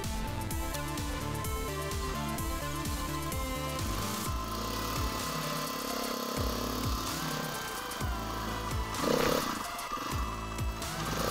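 A KTM 500 EXC dirt bike engine labours over a rocky trail at Cochise Stronghold, its loud, close single-cylinder thumping pulsing steadily throughout with revving surges and a sharper burst near the end.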